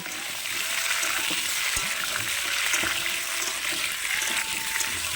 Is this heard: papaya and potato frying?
yes